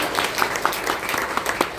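A lecture audience applauds with dense, close clapping, individual claps standing out in a loose rhythm across the short burst, loud and unbroken.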